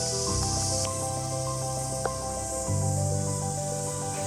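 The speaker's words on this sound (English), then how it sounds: "This is the song of the cicadas during the summer here." Cicadas sing on a warm summer day at Milford Sound Lodge in New Zealand, a steady high buzzing chorus with layered tonal drones beneath, continuous and fairly loud throughout with one brief click midway.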